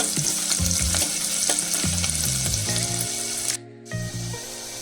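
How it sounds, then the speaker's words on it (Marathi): Onion frying in a hot oil tempering for Malvani pomfret chutney sizzles loudly and steadily, with rhythmic clatters of stirring, then briefly drops away before the hiss resumes. "कांदा लाल होईपर्यंत भाजायचा फोडणीचा।"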